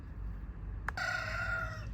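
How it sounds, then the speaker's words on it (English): A rooster crows once at a middle distance among clucking chickens, a single drawn-out call rising over a low steady background. "I hope you can ignore the chickens in the background."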